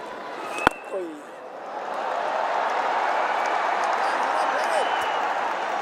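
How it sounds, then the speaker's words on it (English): A cricket Test crowd in India, England on tour, swells into a steady, broad roar that builds after a brief sharp knock and a few faint calls. The noise then holds loud and continuous to the end. "The crowd are starting to get into this here"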